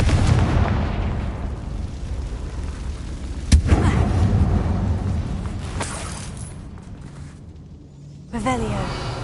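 A Confringo fire spell explodes in the game Hogwarts Legacy: a sharp, loud blast near the middle, over a dense, rumbling battle din, then a fresh burst of noise near the end.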